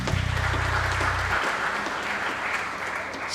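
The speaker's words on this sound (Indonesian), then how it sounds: "Sekali lagi sebagai tanda terima kasih kita beri tepuk tangan." Applause from a congregation during a Sunday evening Toraja church service, a loud, sustained wash of clapping with a low electronic hum at the start that fades out partway through.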